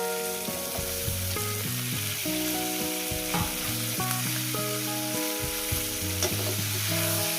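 Snake gourd frying with egg, green chilli and onion: a steady, fairly loud sizzle runs throughout, with frequent scraping stirs of a spatula in the pan and no voices.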